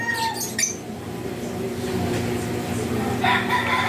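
A young chicken clucks and squawks nearby in short bursts over a steady low background rumble, with a brief high crowing-like call near the end.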